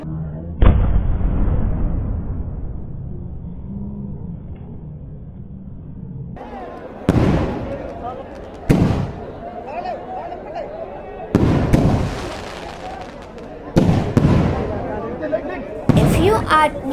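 Fireworks burst at a Katrenipadhu Jatara festival display, with a sharp blast near the start followed by a series of loud, booming explosions spaced a second or two apart, crackling trails between them and crowd noise underneath.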